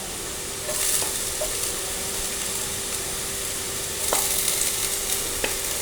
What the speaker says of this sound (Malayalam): ഇനി അതിലേക്ക് നമുക്ക് ചതച്ച് വെച്ചിരിക്കുന്ന വെളുത്തുള്ളി, ഇഞ്ചി എന്നിവ ചേർക്കാം.